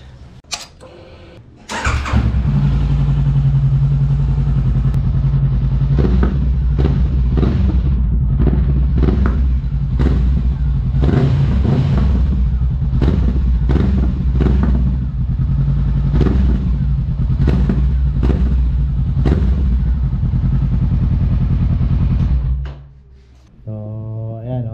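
A Honda CB500X motorcycle fitted with an M1 Akrapovic exhaust starts up and idles with a deep rumble, then blips its throttle in a string of sharp, loud revs before cutting off, close by.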